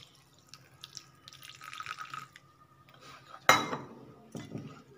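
Water is poured into thick crepe batter in a bowl, making a soft trickling wash with light clinks of a utensil, then a sharp clatter and a few more knocks against the dish.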